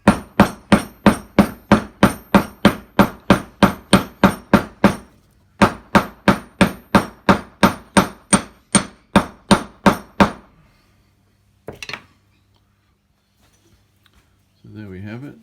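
Steady, loud hammer blows drive a wooden wedge into the slot of a new timber handle fitted to an old hammer head. Two long even runs of close, sharp strikes are separated by a short pause, followed by a few faint handling knocks.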